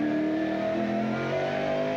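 A 1998 V8 Supercar engine roars onboard on the race track, a loud continuous high-revving drone with shifting pitch as the car accelerates, heard close from inside the cockpit.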